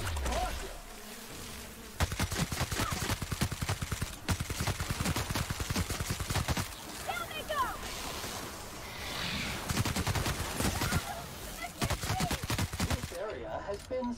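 Heavy cannon-type special weapon firing in The Outer Worlds, a rapid run of sharp, crackling bursts with buzzing texture, loud and close, pausing briefly before more volleys.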